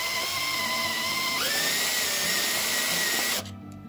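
A power drill whines loudly and continuously as it bores the final hole through a metal frame on a DIY electric cart, the pitch rising partway through before the motor cuts off abruptly near the end.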